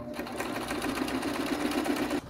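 A sewing machine stitches the hem of a table runner with a presser foot, running in a steady, fast, continuous whir close by, alone and without talk, stopping just before the end.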